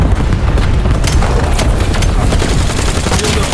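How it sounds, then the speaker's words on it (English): Cluster grenade detonating in Black Ops 7 as a dense burst of overlapping blasts and crackling booms, loud and close throughout, with no pauses between the explosions. "Cluster grenade out."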